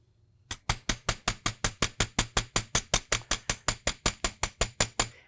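Metal being hammered to shape gemstone earrings, with about twenty-four sharp, evenly spaced ringing strikes at a steady rhythm, close and loud, with no voices.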